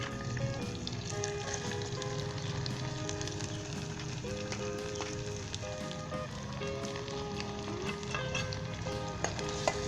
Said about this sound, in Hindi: साथ ही इसमें चिकन शामिल कर दें।